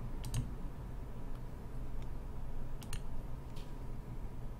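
Soft computer mouse clicks while configuring MIDI controller input in the Reaper DAW: a few light, isolated clicks scattered over a quiet background.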